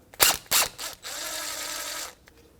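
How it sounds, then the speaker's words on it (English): A 14mm socket wrench spins a banjo bolt out of a front brake caliper on a 1992–1996 Toyota Camry, two quick ratchet clicks followed by a steady second of fast ratcheting, close and clear. "I'm going to spin that banjo bolt right out"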